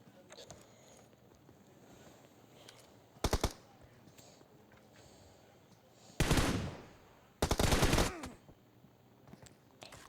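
Automatic gunfire in the PUBG battle royale game: a short burst, then two longer loud rattling volleys, close and sharp against low background noise.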